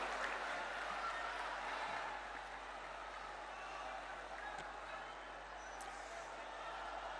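Steady crowd applause welcoming Chief Minister Shivraj Singh Chouhan at a public event in Sagar, a continuous wash of clapping at moderate distance that holds evenly throughout.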